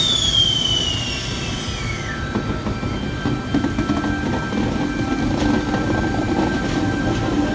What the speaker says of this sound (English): V29 is now departing on platform 1